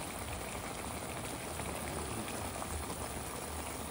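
Bagongon snails and papaya simmering in coconut milk in a pot, giving a steady, faint, rain-like bubbling that holds at an even level throughout.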